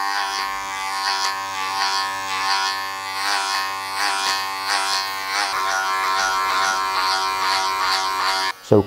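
An electric hair clipper buzzes close up while cutting hair for a faded undercut, a steady loud drone with rhythmic dips as it passes through the hair, stopping abruptly at the end.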